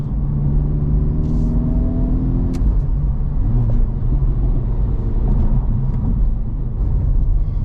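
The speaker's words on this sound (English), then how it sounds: "Sure the neighbors through here can hear this exhaust." Exhaust of a 2024 Acura Integra Type S or 2023 Honda Civic Type R on a test drive, a loud, steady engine drone heard close, with a rising then settling tone early on and no talking.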